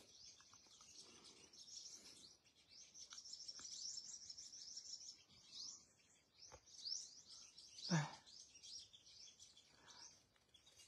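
Sunbird chirps near a bird trap outdoors, repeated high thin tweets and short trills scattered across the stretch, fairly faint, with a louder nearby rustle or call burst midway.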